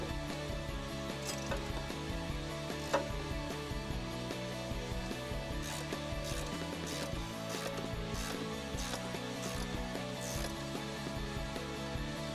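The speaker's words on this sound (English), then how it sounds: "13mm socket and tighten these down" A ratchet with a 13mm socket clicks steadily as it tightens bracket bolts for 4-inch side step bars on a 2019-2021 Silverado or Sierra 1500, partly masked by continuous background music.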